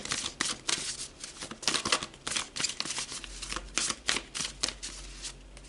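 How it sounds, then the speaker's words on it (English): Tarot cards riffle and slap in repeated quick bursts, a close, crisp shuffling rhythm with short pauses between passes. "now we will shuffle for the last one"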